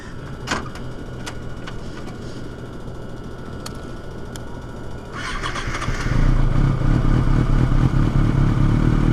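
A motorcycle engine fires up after a few seconds of quiet idle-level rumble, then settles into a loud, steady running growl close by, with no talking over it.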